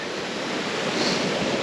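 A Yorkshire river running in spate after heavy snow and rain gives a loud, steady broadband rush of churning water, close and constant throughout with no pauses and no talking.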